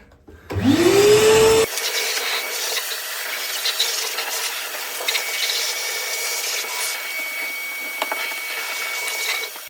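A Hoover vacuum cleaner switched to blow mode and used as a leaf blower starts with a rising whine, roars loudly for about a second, then settles into a steady, quieter airy hum for the rest.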